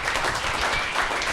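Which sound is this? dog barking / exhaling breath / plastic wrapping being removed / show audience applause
show audience applause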